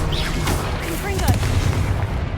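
Booming blasts of the Confringo fire spell in the Hogwarts Legacy video game, several dull explosive thuds over a dense, rumbling game soundscape, with a voice talking over it.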